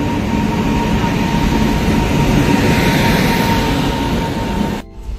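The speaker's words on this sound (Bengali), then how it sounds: "এই যে আমাদের লালগোলার ট্রেন ঢুকছে, দেখতে পাচ্ছ" A Lalgola-bound passenger train pulls into a station platform, a steady loud rumble of wheels and carriages with a faint high tone running throughout, cutting off abruptly near the end; no one speaks.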